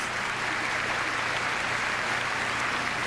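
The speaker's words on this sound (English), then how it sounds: "Please give yourselves a round of applause." Audience applause at the Miss Mississippi 2000 pageant: a steady, dense wash of many hands clapping, somewhat distant and soft, holding evenly throughout without a break.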